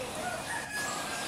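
A mini bearded bulbul's bright, warbling song rings out continuously, fairly loud and close, with rapid varied phrases over a faint background hiss.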